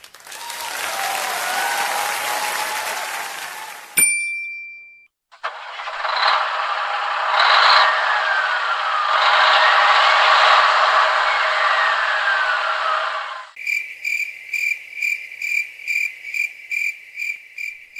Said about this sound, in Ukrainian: Так звучить тролейбус.